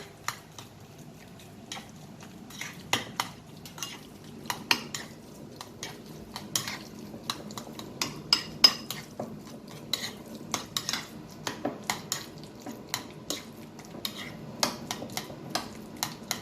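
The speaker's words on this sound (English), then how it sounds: "Smash it all together, mix it well." Guacamole being smashed and mixed with salt and freshly squeezed lemon juice, heard as a steady run of close, irregular clinks and scrapes of a utensil against a bowl with soft squishy mashing between, no talking.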